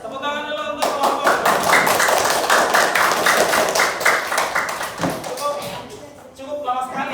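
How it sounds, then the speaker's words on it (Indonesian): A classroom applauds a student group, giving a loud, fast round of hand clapping that goes on for several seconds and then stops abruptly, with voices talking before and after it. "tepuk tangan dulu untuk kelompok"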